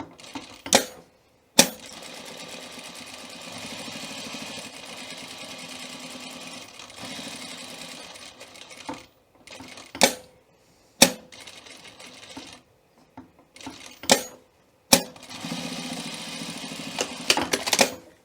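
Sewing machine stitching a welt pocket, long runs of fast steady mechanical whirring broken by pauses and sharp clicks as the fabric is pivoted at the corners, close and loud.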